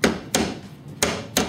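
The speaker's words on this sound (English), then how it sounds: "All you have to do is tap in both sides with a hammer" A hammer taps a sawtooth hanger into both sides of a picture frame: four crisp, sharp metallic knocks in an uneven rhythm, close and clear, with no voices.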